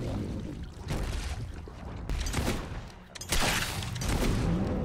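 Gunshots crack in a Fable II fight, with a few sharp bursts standing out against a rumbling, noisy combat background, fairly loud and close.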